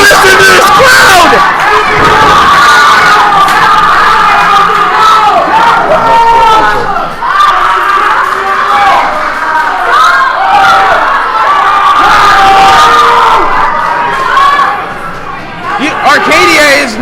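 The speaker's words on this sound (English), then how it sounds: "Listen to this crowd!" A wrestling crowd at the UWA Elite Brawl For It All 2017 show roars and cheers steadily throughout, with a commentator talking loudly over it the whole time.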